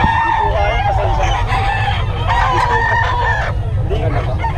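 A rooster crows several times close by, loud drawn-out calls with clucking fowl around it, while someone talks over the birds.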